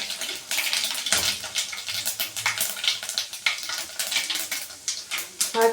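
Mustard seeds and cumin fry in hot oil for a sambar, giving a busy, crackling sizzle with rapid pops and spitting bursts, close and fairly loud throughout.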